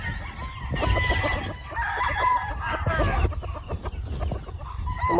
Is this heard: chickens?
yes